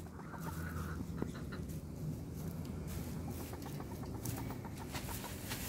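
A flock of chickens scratches through a pile of leaves, with close, repeated short clucks and calls over a steady rustling crunch of dry leaves.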